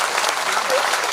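Devotees at a Holi festival gathering clap loudly for their guru, a brief burst of dense, close crowd applause mixed with voices.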